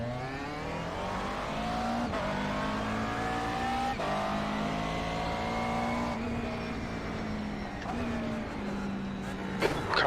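McLaren race car engine in a racing video game at Alton Park, a steady high revving drone that rises and falls through gear changes, with a brief shift blip near the end and no voices.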